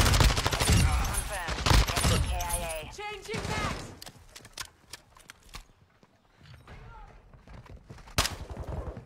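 Rapid bursts of hip-fire gunfire in a first-person shooter video game, crackling in volleys over dense game effects, with a voice talking on top.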